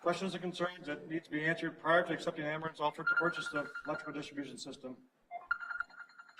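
A telephone rings during a village board meeting, its steady tone sounding beneath a man reading aloud and then briefly alone at the end.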